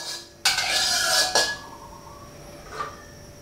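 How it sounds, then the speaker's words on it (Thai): Sliced bitter melon hits a hot oiled pan for stir-frying, a sharp metallic clatter and sizzle burst, then a second clank and a softer scrape as it settles. "นำมะระลงผัดครับ"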